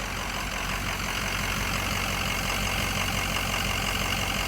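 A Ford 6.0 Powerstroke diesel engine runs steadily with a slight misfire, a loud, continuous close-up rumble with a dense low-end drone and no pauses.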